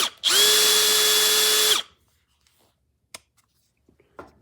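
A Bosch GSB18V-490B12 cordless hammer drill spins up in one loud, steady high whine lasting under two seconds, then stops, followed by faint handling clicks.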